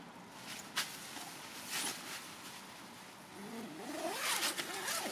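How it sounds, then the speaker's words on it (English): A Vango Equinox 350 tent door zipper rasps open in a long pull toward the end, preceded by soft handling noises and a faint engine hum in the distance. "Just to show the zips are working."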